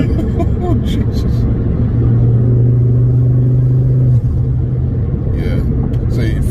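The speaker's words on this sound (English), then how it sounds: "See, it flutters, the turbo just..." Turbocharged MK2 Ford Focus ST on the road, heard from inside the cabin: a loud, steady engine rumble with a sustained drone, then a brief fluttering chatter as the throttle lifts.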